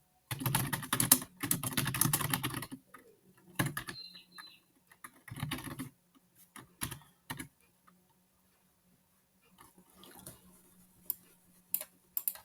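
Computer keyboard typing while a SQL query is entered: dense bursts of key clicks at the start, then sparser scattered taps with pauses, close and fairly quiet.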